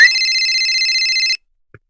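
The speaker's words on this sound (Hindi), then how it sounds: "देखी तो घर में फोन बाजी थली है" A telephone ringing at home: a single bright electronic ring burst lasting just over a second, loud and clear, followed by silence and a faint knock.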